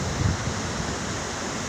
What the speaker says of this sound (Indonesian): kita akan melihat deburan ombak yang begitu ganas